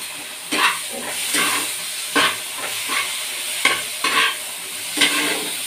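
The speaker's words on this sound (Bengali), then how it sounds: "সরষেটা যদি বেশি ভাজা হয়, যে সরষেটা তিতো লাগে, তার জন্য অল্প ভাজবো সরষেটা" Mustard paste fries in a pan while being stirred, a steady sizzle broken by roughly eight sharp scraping strokes in an irregular rhythm, close and clear with no talking.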